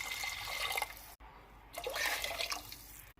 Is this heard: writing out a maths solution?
no